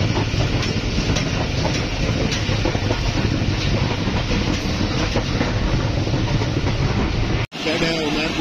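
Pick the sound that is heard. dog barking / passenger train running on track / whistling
passenger train running on track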